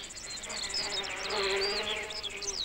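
Insects buzz steadily among spring wildflowers on the open steppe, a continuous close drone with faint higher chirps layered through it, no voices.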